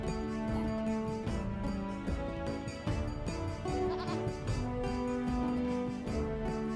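Goats bleat repeatedly throughout the German strategy game Die Siedler: Aufbruch der Kulturen, layered over steady background game music, with no talking.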